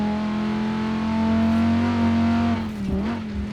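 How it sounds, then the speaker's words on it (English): A four-litre car engine in Forza Horizon 4 revs loudly and steadily in a rich harmonic drone, climbing slightly, then briefly dips and wavers near the end. "It doesn't rev high. I'm running out of revs because it sounds really good above 6."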